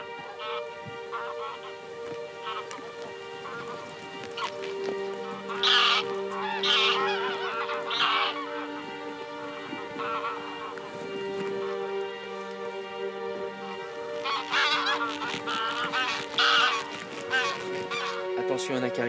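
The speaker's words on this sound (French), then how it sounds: "On voit deux groupes d'oies différentes" Flocks of wild geese honk in flight over a hunting ground, their overlapping calls coming in bursts at moderate distance amid steady honking, with low murmured talk nearby.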